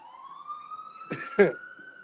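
A distant ambulance siren in New York holds a steady rising tone in the background while someone nearby coughs twice.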